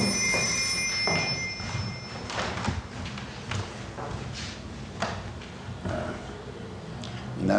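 A government office telephone rings in a room, its bell tone sounding clearly for the first couple of seconds, then fading into low background rumble with occasional thumps and handling knocks.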